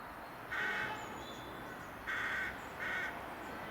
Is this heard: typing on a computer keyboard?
no